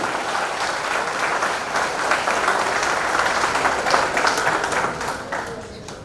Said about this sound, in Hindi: हाथ उठाकर हवा में जोरदार तालियां होनी चाहिए